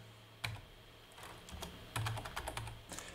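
Typing on a computer keyboard at a desk, quiet close keystrokes in short irregular bursts of clicks with brief pauses between.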